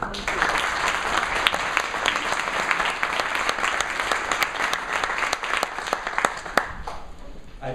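Audience applause at a university keynote on transition, sustained dense clapping from a crowd filling the room, steady and loud throughout with a few sharper claps standing out near the end.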